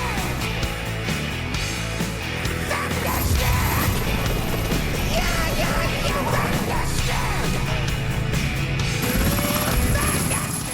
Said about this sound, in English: The helicopter creates something called downdraft as it comes in to land